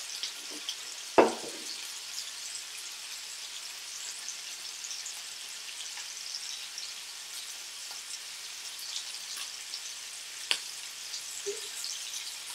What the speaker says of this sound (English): A little splattering going on.